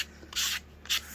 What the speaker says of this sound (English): You might wonder why I'm sanding the back.